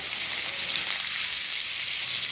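Sliced ginger and garlic sizzle in a pan as they are stirred, giving an even, close, crackling hiss that holds steady throughout.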